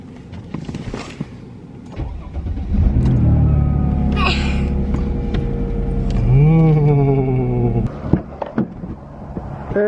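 A car engine starts up and runs at a loud, low rumble, with a rising rev partway through before it settles, amid clicks and handling noises.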